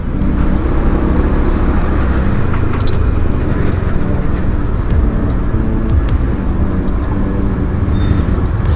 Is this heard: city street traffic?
yes